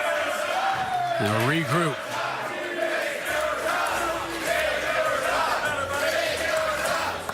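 A crowd at a professional bowling playoff match fills the arena with steady, loud cheering and yelling, with a sharp whooping voice rising above the din early on and a commentator's voice briefly heard.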